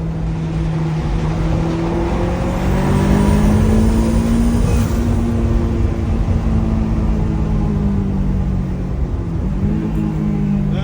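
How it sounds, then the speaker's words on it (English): A Honda S2000 engine drones steadily from inside the cabin, its pitch dipping and blipping up briefly as the driver makes rev-matched, heel-toe downshifts through the gears. "Rev match right there, little heel toe, easy."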